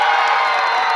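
Festival crowd at the Azacualpa, Chalatenango fiestas cheering and shouting loudly for a winning couple, a dense roar of voices with whoops and some clapping, steady and close for a brief moment.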